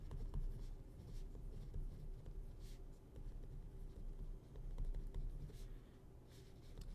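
Chalk or a marker scratches and taps across a board during a math lecture. Soft, irregular strokes sound fairly close over a quiet room hum, with no speech.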